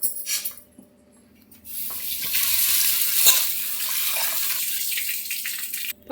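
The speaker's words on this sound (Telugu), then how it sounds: "ఇప్పుడు మనం ముందుగా పప్పు కడుక్కుందాం" Dal lentils swished and rinsed by hand in water in a kitchen, a steady wet sloshing and splashing that starts after a quiet moment and runs several seconds before stopping abruptly.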